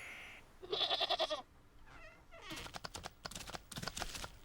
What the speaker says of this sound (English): The goat!